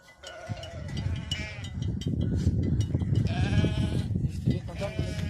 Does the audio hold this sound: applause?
no